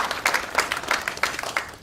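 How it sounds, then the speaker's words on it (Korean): Scattered clapping from an audience at a political party gathering in Cheonan, a few distinct rhythmic claps standing out over thinner, uneven applause. "박수 한 번 좀 크게 쳐주시기 바랍니다"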